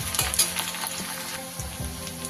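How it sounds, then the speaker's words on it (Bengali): Chopped onion hits hot oil for beresta in a katla fish korma, a loud, close sizzle with crackling bursts and stirring scrapes over a short stretch. "একটা বড় সাইজের পেঁয়াজকে আমি কুচো কুচো করে কেটে রেখেছি, সেটা দিয়ে দিলাম। এটাকে আমি বেরেস্তা তৈরি করে নেব।"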